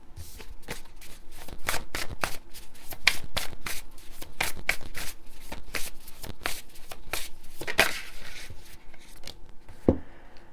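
A tarot card deck is shuffled close up, a long run of crisp riffling and slapping card sounds in quick, uneven bursts, with no talking over it.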